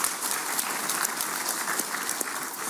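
Steady applause from a crowd at a celebration of Yakubu Gowon's 90th birthday, dense clapping filling the whole stretch with no voices on top.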